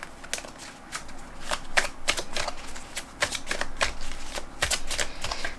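Dixit cards being shuffled by hand, a series of quick riffling and flicking bursts close by over a few seconds.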